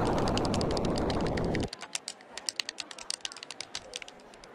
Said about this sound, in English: somebody's really mashing on those keys